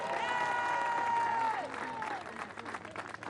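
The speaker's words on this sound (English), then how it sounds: "A big round of applause please for Elisa Balsamo." Loud applause from a crowd at a women's cycling race finish, steady clapping that carries on with a tone sliding down underneath, then thins a little toward the end.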